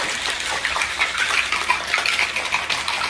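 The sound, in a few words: pouring a shaken cocktail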